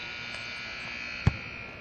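A basketball arena buzzer sounds to end the first quarter of a men's Panama versus Jamaica game, a steady electronic drone held through the moment with a brief thump partway in.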